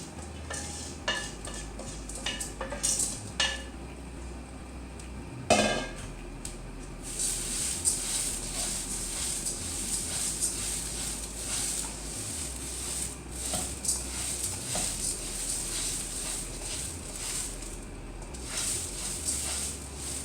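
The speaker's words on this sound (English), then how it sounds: "I'm going to patch the rice until it's brown." Soaked rice being parched in a pan, with steady scraping, stirring and light sizzling, occasional clinks of a utensil against the pan, and a louder knock partway through.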